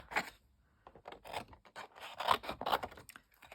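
Scissors snip and scrape through paper for a junk journal, a close, quiet series of irregular cuts and rustles with short pauses between them.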